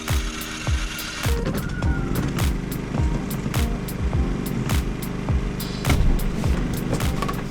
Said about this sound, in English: We're going to fire up the generator, charge our batteries, charge our Jackery